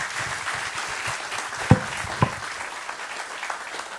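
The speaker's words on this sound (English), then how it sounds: "Please give him a round of applause, everybody, for being here." Light applause from a small audience at a lecture on India's economy, scattered claps with a couple of sharper knocks standing out, fairly quiet and brief.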